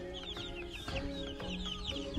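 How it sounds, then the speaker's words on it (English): Large, well-grown ducks give soft, quiet calls, a few short bursts over a low background hum with no voices. "My duckies are huge."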